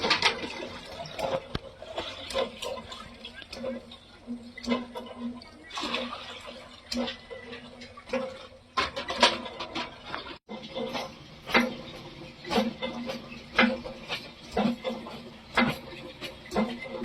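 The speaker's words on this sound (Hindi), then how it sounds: "अब माँ बस एक बटन दबाती है और चापाकल का हैंडल ऑटोमेटिक चलने लगता है।" An automatic motorised hand pump in Giridih, Jharkhand, splashes water into household vessels, with repeated gushing bursts and dripping in an irregular rhythm and faint voices in the background.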